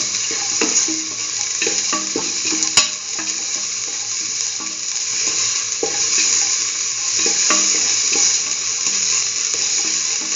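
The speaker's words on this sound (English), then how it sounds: "Thoroughly saute and mix the salt and the mixture spices." Salt and mixed spices are sautéed and stirred in a pan for a mustard chayote bell pepper rice, a loud continuous sizzle with the rhythmic scrape of a spoon throughout.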